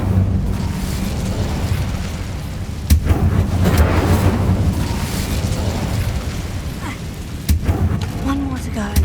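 The Incendio fire spell goes off in Hogwarts Legacy, heard as a roaring burst of flame with booming impacts over a rumbling game soundtrack, and a voice shouts the spell's name.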